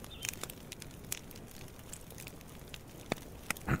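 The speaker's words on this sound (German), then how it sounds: "Ey, das Feuer ist wieder übel laut." A campfire in the survival game Fragmented crackles and pops, with irregular sharp snaps scattered over a soft, steady hiss at moderate loudness.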